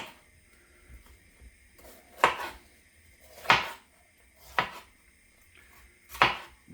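A knife cuts through leftover vegetables on a board, four distinct, separate chops spaced roughly a second apart with quiet gaps between, fairly close and crisp, no voices.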